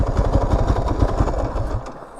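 A Kawasaki KFX 450R ATV engine firing back up after stalling and settling into a loud, close idle, with steady rhythmic chugging pulses that fade and drop off near the end.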